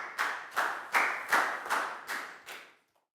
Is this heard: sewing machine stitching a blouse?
no